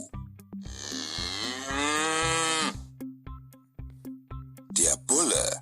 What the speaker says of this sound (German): Die Kuh.